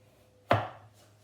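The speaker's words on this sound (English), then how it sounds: "for rounds, just straight through, and again, not straight up and down, but let the knife do some work for you" A single knife stroke slicing straight through a vegetable into a round, one sharp close thunk onto the cutting board that fades quickly, with quiet surroundings and no talk.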